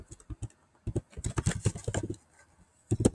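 Quick clusters of keystrokes on a computer keyboard while text is entered into a PowerPoint shape, close and clicky, in short irregular runs with brief pauses and no voices.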